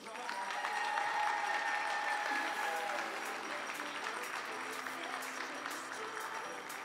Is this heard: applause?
yes